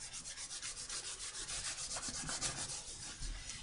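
An oily rag buffs glycerin into an art journal page, a close, soft rhythmic rubbing with quick repeated back-and-forth strokes throughout.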